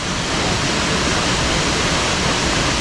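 Steady broadband rush of a waterfall pouring into a pool along the Bamboo Trail trek at Mawryngkhang, Meghalaya, loud, close and unbroken, with no voices.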